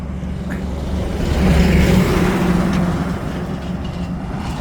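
Steady roar of trucks and cars crossing a new NH 17 highway overbridge near Golakganj, a continuous close rumble that swells briefly in the middle as a heavier vehicle passes, with no talking.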